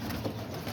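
Pigeons in a backyard loft give a low, muffled coo in a dense, steady murmur, close by, with no voices.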